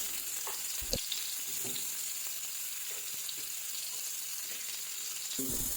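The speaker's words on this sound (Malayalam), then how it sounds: "ഓയിലൊക്കെ ചൂടായി വന്നിട്ടുണ്ട് ഇനി നമ്മൾ ഇതിലേക്ക് നേരത്തെ അരിഞ്ഞു വെച്ച ആ വെജിറ്റബിൾസ് ഇല്ലേ അതാണ് ഇട്ട് കൊടുക്കുന്നത്" Chopped vegetables frying in hot oil for a Spanish omelette, a steady close sizzle with occasional stirring scrapes and clicks throughout.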